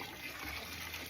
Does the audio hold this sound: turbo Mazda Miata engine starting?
no